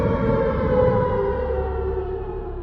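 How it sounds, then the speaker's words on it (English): A city civil defense siren in Santa Fe wails in a loud, steady sustained tone that holds throughout, with no talking. "The sirens didn't sound like this before."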